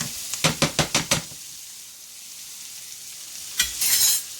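Onions for a Philly cheesesteak cook in a pan, opening with a rapid run of five or six sharp utensil knocks, then a quiet stretch of low frying hiss before a final clack and a brief scraping burst.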